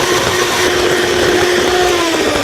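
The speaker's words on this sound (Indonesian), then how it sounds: "Oke, kita kocok sampai soft peak." An electric mixer whips unsweetened dairy whipping cream toward soft peaks, a steady, close motor whine with a constant pitch and no pauses.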